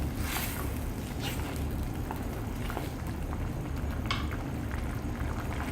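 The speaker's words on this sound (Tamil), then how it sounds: "நல்லா கொதி வந்துடுச்சு" Pot of anchovy fish curry (nethili meen kuzhambu) boiling uncovered on the stove, a steady low bubbling simmer with occasional soft pops, close and continuous with no talking.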